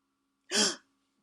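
A single sharp gasping intake of breath, drawn in through the mouth and let out through the nose, demonstrating shock breathing; brief, close and alone against silence.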